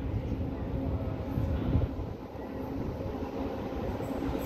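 A heavy freight train rumbles past nearby in Belgrade, Serbia, with a low, continuous roar and rattle of wheels, holding steady throughout without anyone speaking.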